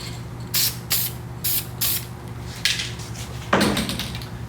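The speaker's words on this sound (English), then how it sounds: "I'm just gonna spray a little bit in this zone here just for that pocket." Several short hissing bursts from an aerosol spray can of adhesive sprayed onto a screen-printing pallet, spaced about half a second apart, with one longer final spray close by.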